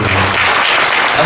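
Audience at a Jeonbuk farm and food policy forum bursts into steady, dense applause, loud and close, filling the short moment without voices on top.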